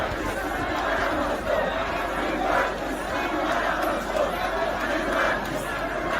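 A large crowd of protesters gathered at an airport junction, a continuous dense roar of chatter and shouting voices with rising chant-like swells, heard close and loud.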